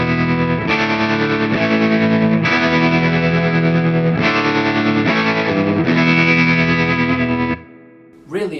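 Electric guitar through a Hamstead Artist 60+RT amp with its tremolo set to a faster speed, sustained chords pulsing and shimmering under the effect, loud and close, before cutting off near the end.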